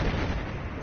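A single heavy cannon shot fired at an enemy tank in Battlefield 4, a deep booming blast that fills the brief moment and rumbles on loudly.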